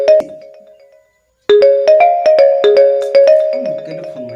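A mobile phone ringtone plays loud and close as a bright repeating melodic tune, stopping for a moment and then ringing again in quick rhythmic notes.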